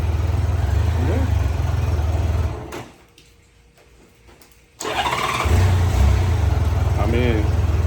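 A 1994 Honda Goldwing 1500 Aspencade engine idles with a steady low hum, dropping out for a couple of seconds mid-clip before returning as a person talks over it.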